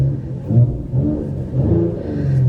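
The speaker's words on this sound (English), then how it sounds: "You can hear the engine change" A 2023 Mercedes-AMG GLE 53 Coupe engine shifting into sport mode, a loud, close low rumble and whir that rises and settles in waves, with a deeper growl building toward the end and no talking.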